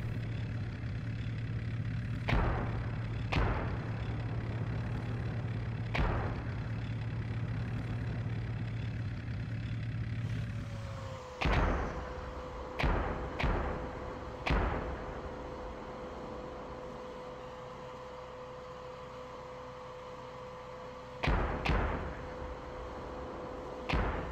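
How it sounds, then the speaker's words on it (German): Artillery shells land in the Steel Beasts Pro PE tank simulator, sharp booming impacts arriving singly and in quick clusters over a steady engine drone, some near and some farther off, with no talk. "jetzt kommt hier irgendwie Artillerie runter"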